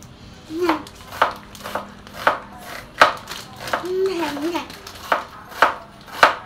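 A knife chops onions on a cutting board with steady, evenly spaced thuds at close range. People talk softly in the background between the cuts.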